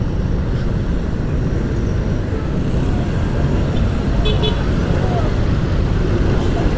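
Heavy road traffic on MacArthur Highway near SM Marilao, a loud, dense, unbroken rumble of passing vehicles heard from close by, with a brief high horn-like tone partway through.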